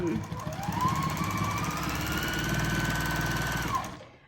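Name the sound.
sewing machine doing free motion quilting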